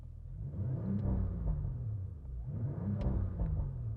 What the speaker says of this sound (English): Oh, this is a nice sounding car.